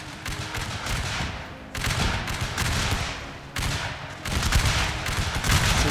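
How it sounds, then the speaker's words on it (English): Massed rifle volleys crack in a Shogun 2 Total War battle as retreating Union troops are fired on, dense crackling fusillades arriving in three or four loud waves with no pause between the shots. "So we're shooting here as the Union are retreating"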